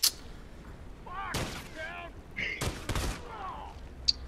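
Gunfire in The Last of Us video game arrives as several short, loud bursts of shots. Players' voices overlap the shooting and continue between the bursts.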